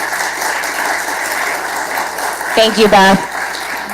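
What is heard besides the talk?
audience applause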